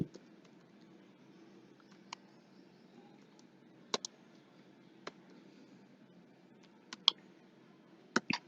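A wallet recovery phrase is typed on a computer keyboard as sparse, sharp key clicks with irregular gaps, close by against a faint quiet background.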